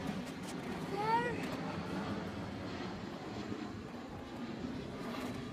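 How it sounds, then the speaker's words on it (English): A jet aircraft passes overhead as a steady, distant broadband roar that holds evenly over several seconds, fairly faint and continuous, with a brief high chirp early on. "there's a jet going past"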